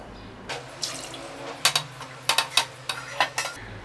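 Water is tipped into a metal kitchen sink with the tap running, giving a steady splashing rush broken by several sharp clanks of a pan and utensils knocking against the basin, close and fairly loud, with no talking.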